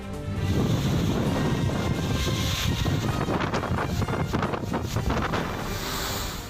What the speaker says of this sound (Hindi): ताउते तूफान के चलते मुंबई के समुद्र में हाई टाइड के दौरान 10 से 13 फीट ऊंची लहरें देखने को मिली और 70 से 80 किलोमीटर प्रति घंटे की रफ्तार से तेज हवाएं चली